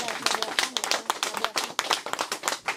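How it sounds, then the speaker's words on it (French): A small group applauds, with dense, uneven clapping that holds steady for a few seconds. "On va l'applaudir."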